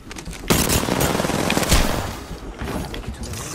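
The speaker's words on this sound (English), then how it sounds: "Getting shot at." Sustained gunfire in a battle royale game, with rapid automatic bursts and several louder close shots crackling over a dense firefight, no talking.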